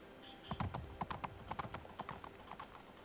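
Horse hooves clip-clop steadily in the Lord of the Rings: The Third Age video game, several animals walking in an uneven overlapping rhythm, close and clear, with faint voices in places.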